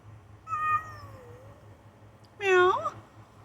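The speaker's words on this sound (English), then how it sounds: "Meow." A cat meows twice, a soft drawn-out call followed by a louder, higher cry a second later, close by over a low steady hum.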